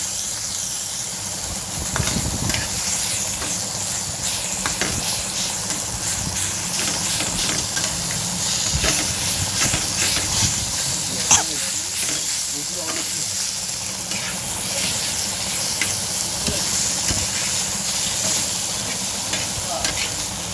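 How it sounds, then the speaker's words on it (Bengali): Taro leaves fry in oil in a pan while a spatula stirs them, making a continuous close sizzle and hiss with scraping taps scattered throughout. "তেলের মধ্যে ভালো করে মিশিয়ে নিচ্ছি, কচু শাকটা খুন্তি দিয়ে ছাড়িয়ে নিচ্ছি"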